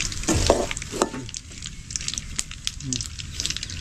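Spices sizzle and crackle in hot oil for a country chicken fry, with a few sharp stirring scrapes early on and a continuous frying hiss throughout.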